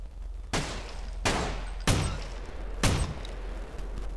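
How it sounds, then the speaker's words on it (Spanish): Four loud, sharp gunshots fired at a fleeing car's tyre during a video game gang chase, spaced roughly a second apart over a low rumbling engine drone. "A la rueda, dispararle a la rueda."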